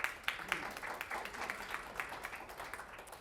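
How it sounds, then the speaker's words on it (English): Applause from a conference audience at a smart-city mobility panel, a brief burst of steady clapping that fades slightly over a few seconds, moderately distant and without speech. "So big round of applause for Ania."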